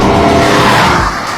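An Aston Martin with a 6-litre V12 runs on an official F1 racetrack, a loud, steady rush of engine and tire noise that tapers slightly toward the end.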